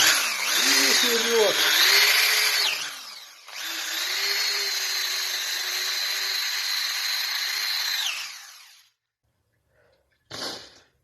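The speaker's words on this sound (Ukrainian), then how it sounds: "Слідуючий етап відшліфовуємо. Беремо таку насадочку, шуруповер," A cordless drill fitted with a sanding attachment polishes an old cast iron pipe, whining loudly and steadily in two long bursts with pitch dips as it bites, then stopping, followed by a brief knock.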